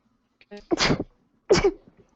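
Two sneezes close by, each a sharp burst with a breathy intake before the first, separated by a short pause.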